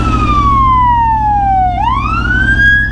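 An emergency vehicle siren wails loudly over steady low engine rumble, sweeping down in pitch for a long glide, then abruptly rising again as it passes close by.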